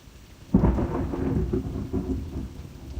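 A sudden crack of thunder breaks into a torrential rainstorm, followed by a rumbling roll and heavy, steady rain close by, with no voices.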